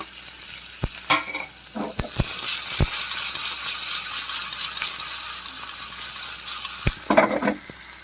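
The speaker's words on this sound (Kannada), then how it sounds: "ಹಸಿಮೆಣಸು ಒಂಚೂರು ಫ್ರೈ ಆಗಬೇಕು." Green chilies and urad dal frying in hot oil, a continuous close sizzle broken by a few sharp stirring clicks and knocks against the pan, with no speech.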